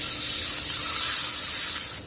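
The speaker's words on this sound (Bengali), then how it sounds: "একটু পানি দিব মশলা কষানোর জন্য" Water splashed into a hot pan of fried onion and spices, cooking down the masala for an egg and potato curry, gives a loud, steady hiss that runs unbroken for about two seconds before easing off at the end.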